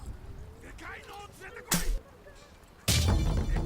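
In the game Mini Ninja, a bow fires arrows, two sharp loud twangs with whooshes about a second apart, over quiet background game sounds.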